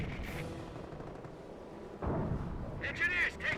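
An artillery or rocket barrage in Company of Heroes: booming impacts and crackling fire swell midway and stay loud, with a voice talking over the battle.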